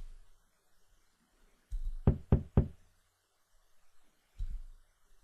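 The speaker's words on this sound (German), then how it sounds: "Wieso klopft sie nicht zurück?" Three sharp, close knocks on a door in the horror video game Bloodcatcher, preceded by a dull thump and followed by a softer thud after a pause, in an otherwise quiet scene.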